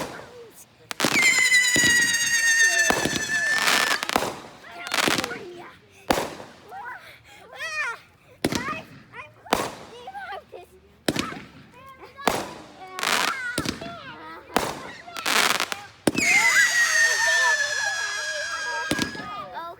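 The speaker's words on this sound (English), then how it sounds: "I like this one. The 3-minute barrage one." A three-minute barrage firework on the Fourth of July fires a rapid string of sharp cracks and bangs, with whistling shells screaming at the start and near the end and voices talking between bursts.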